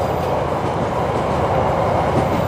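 A train crosses the Cirahong railway bridge close by, giving a steady, loud rumble and roar of wagons with faint clickety-clack from the wheels throughout and no talking.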